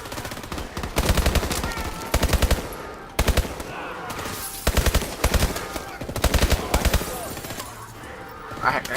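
Bursts of rapid automatic gunfire in the Advanced Warfare video game, several loud close volleys separated by short pauses, with game sounds between them.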